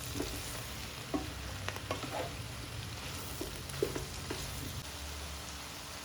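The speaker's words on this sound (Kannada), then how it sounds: "ಉಪ್ಪು ಮತ್ತೆ ಅರಿಶಿನ ಸೇರಿಸ್ಕೊಂಡು ಚೆನ್ನಾಗಿ ಎಣ್ಣೆ ಫ್ರೈ ಮಾಡ್ಕೊಳ್ಬೇಕು" Oil frying in a pan with salt and turmeric gives a steady low sizzle, broken by intermittent scraping clicks of stirring.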